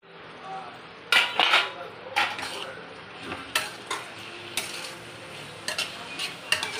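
Tomatoes sautéed in a pan for tomato mint chutney, with a spatula stirring and scraping in close, irregular strokes and clinks over a faint background sizzle.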